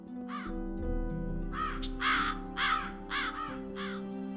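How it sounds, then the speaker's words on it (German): Ravens in the video game Gothic 2 give a run of harsh, evenly spaced caws, about five or six loud calls over a steady droning game ambience, with no talking. "Oha, hier oben sind Raben."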